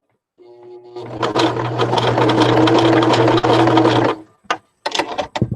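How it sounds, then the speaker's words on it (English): A sewing machine stitches fabric pieces together for a shabby chic clutch, running in a fast steady mechanical whir for about three seconds, then short stop-start bursts as the work is turned. "make sure your needle's down, and then turn your work, and then keep sewing"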